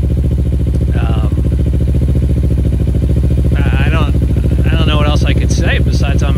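A 2008 Kawasaki Ninja 250 with a loud exhaust idles in a steady, throbbing drone close to the microphone, while someone speaks over it.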